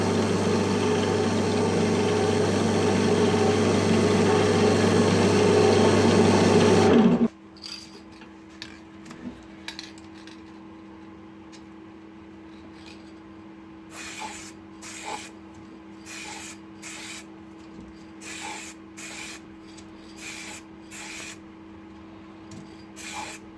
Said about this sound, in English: one coat on the inside with the lathe spinning as I did with the ebonising lacquer